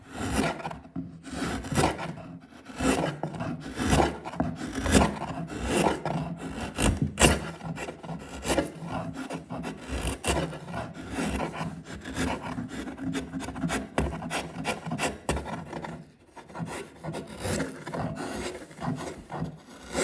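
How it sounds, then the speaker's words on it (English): An inshave carves wood across the grain in a rapid series of close, scraping, rasping cuts with an uneven rhythm, continuing for about twenty seconds with no talk. "So I'm going to come this way and cut in this combination of width and across the grain."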